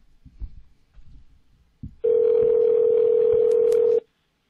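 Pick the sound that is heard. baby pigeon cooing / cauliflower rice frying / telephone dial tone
telephone dial tone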